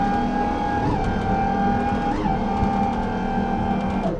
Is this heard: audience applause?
no